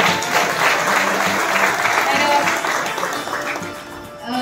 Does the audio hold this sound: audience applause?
yes